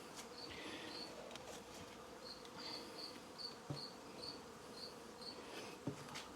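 Honeybee swarm buzzing around an open hive during an inspection, a faint steady hum with scattered individual bee passes and a few soft thuds of hive equipment, no speech.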